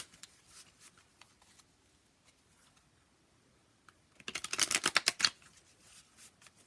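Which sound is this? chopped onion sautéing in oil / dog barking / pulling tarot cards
pulling tarot cards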